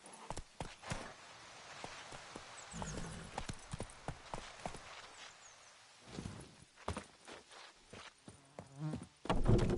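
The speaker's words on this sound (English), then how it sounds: "Whoa there, Roach." Hooves clip-clop at a walking pace in The Witcher 3, crisp and fairly close, with scattered thuds and a louder burst of movement at the end; no speech is heard.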